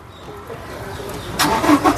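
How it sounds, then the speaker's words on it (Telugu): A 2018 Toyota Innova Crysta 2.4 engine cranks and catches on a single try near the end after a quiet lead-in, with a burst of mechanical noise close by. "సింగిల్ సెల్ఫ్లో కార్ స్టార్ట్ అయితే ఎటువంటి స్టార్టింగ్ ట్రబుల్ అయితే లేదండి"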